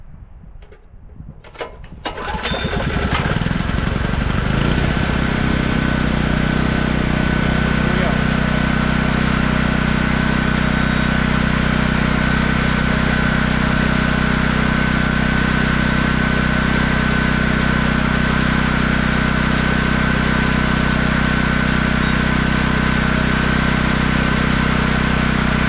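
A small portable generator engine catches after a few seconds of quiet fumbling, then runs at a loud, steady, droning idle with constant vibration for the rest of the stretch, close by.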